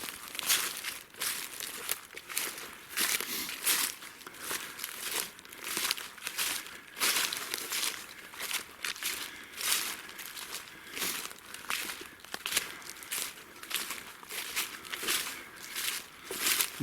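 Steady crunching and crinkling of dry leaves underfoot as someone hikes a deer scrape line through Alabama woods, footsteps close and continuous in an uneven walking rhythm.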